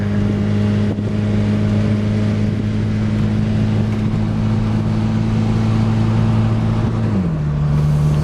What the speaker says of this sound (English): Giving it throttle, but like it didn't want to go, and then it just started going.